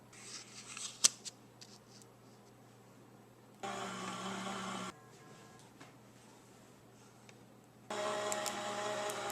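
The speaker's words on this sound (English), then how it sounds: "Follow the directions for your die cutting machine to die cut and emboss this die." Die cutting machine rolling cardstock through a die to cut and emboss it, two steady mechanical whirring passes separated by quiet handling noises.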